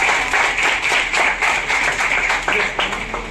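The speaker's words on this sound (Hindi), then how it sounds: "ताली हो जाए इसके लिए" Children clap for a student at a school, a quick patter of claps repeating in short bursts throughout, fairly close, with some voices mixed in.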